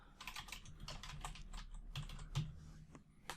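Fingers type on a computer keyboard in a quick run of light, clicky keystrokes, close and fairly soft, with no speech over them.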